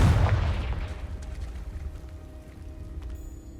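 A Confringo fire spell blast from Hogwarts Legacy bursts loud and close at the start, then its fiery roar and crackle fade away over a few seconds with no voices.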